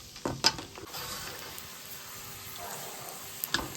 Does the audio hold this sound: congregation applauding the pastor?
no